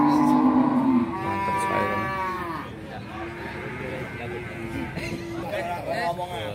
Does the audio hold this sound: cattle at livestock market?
yes